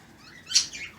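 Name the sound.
birds chirping and singing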